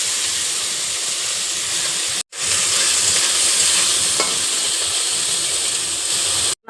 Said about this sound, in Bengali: কড়াইতে তেল দিয়ে দিলাম, তেল গরম হয়ে গেছে। এখন শুকনো মাছগুলো ভেজে নিব।